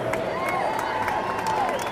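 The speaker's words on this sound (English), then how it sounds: "Let's give a big round of applause for the band." A pep-rally crowd at the Riverchase Galleria applauds and cheers the band for the Hoover Bucs 2013 season, a dense wash of clapping and shouts with a few sharp whistles rising over it.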